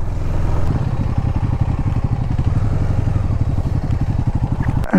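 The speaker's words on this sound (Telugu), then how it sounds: "బైక్స్ ఆడ ఉన్నాయి, మెల్లి ఎక్కుతున్నాం" Motorcycles climb slowly up a hill road in a weekend ride, their engines chugging in a loud, steady low-pitched thump close to the microphone with wind rumble throughout.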